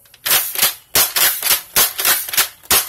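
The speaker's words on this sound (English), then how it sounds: "lots of dry firing there, I realized that, but pretty much just trying to see if this rotates nicely" Lanard X-Stream toy blaster with a pump grip dry fired repeatedly: about seven loud, sharp plastic snaps and clacks in an uneven rhythm, close up with no voice.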